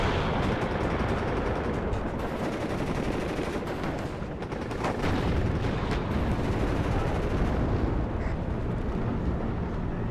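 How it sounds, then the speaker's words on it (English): M1 Abrams tank firing at a tower amid a battle in the WARNO strategy game, a dense continuous wash of gunfire, machine-gun rattle and booming explosions, loud and unbroken throughout. "M1 Abrams right here, taking shots at that tower."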